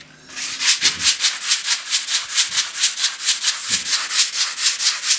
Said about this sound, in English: And just keep sanding.